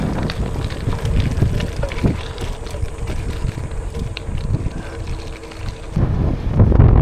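Wind roars and buffets the microphone during a gravel bike ride near farmland around Gapan City, a loud steady rush with low gusty rumble throughout.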